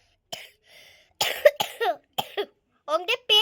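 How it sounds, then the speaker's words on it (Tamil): A teacher coughing in a classroom during an exam, several harsh close coughs and throat sounds in quick bursts between short pauses, with a voice faintly present. "உங்ககிட்ட பேசி பேசி எனக்கு இருமல் வந்துருச்சு."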